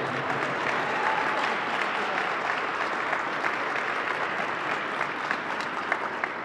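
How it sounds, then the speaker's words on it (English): A crowd at a Three Kings Day celebration keeps up continuous applause, a thick, even roar of many clapping hands with faint voices mixed in beneath it. "We still gave Jerome a lot of applause."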